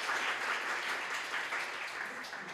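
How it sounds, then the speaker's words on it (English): Moderately quiet, steady applause from a conference audience at a PyCon APAC 2023 talk, dense clapping continuing evenly without speech. "Can we have a big round of applause for Peacock?"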